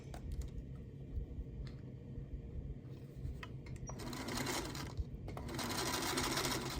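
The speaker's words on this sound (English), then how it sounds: "I'm just gonna sew them together with a 1/4 inch seam allowance" A Featherweight sewing machine stitches quilt squares together with a quarter-inch seam. Its rapid, even mechanical clatter runs in close bursts and grows louder and faster toward the end.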